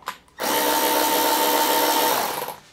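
A Milwaukee quarter-inch cordless ratchet with 30 foot-pounds of torque runs in one steady, loud, whirring burst for about two seconds, close up, with no speech.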